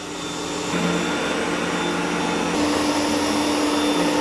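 Steady, loud whirring suction of an ECOVACS DEEBOT X2 Omni robot vacuum and mop cleaning a floor, with a slight shift in pitch partway through as it works, close by and continuous with no voices.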